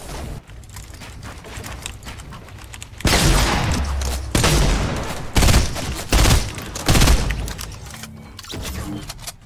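FAMAS rifle fire in a video game, sounding as loud, close bursts of rapid shots with short pauses between them, following a quieter stretch with faint background game noise.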